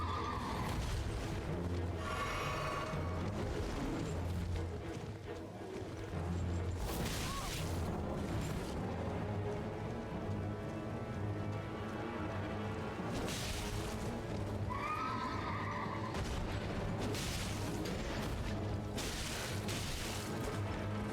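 A horse in the fantasy action game Elden Ring lets out a couple of shrill whinnies amid battle noise, heavy booms and crashes, with no talking.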